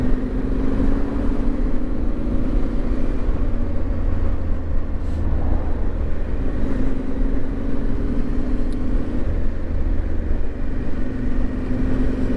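Yamaha T7 motorcycle on its first ride, engine droning steadily with continuous low rumble and wind noise, rising and falling slightly in pitch as it cruises, no talking.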